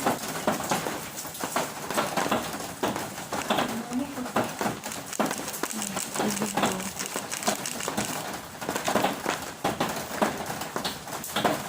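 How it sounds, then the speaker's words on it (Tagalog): Steady rain patters across the whole recording, with bird calls and soft cooing mixed in and some speech-like sounds over the wet background. "Umuulan."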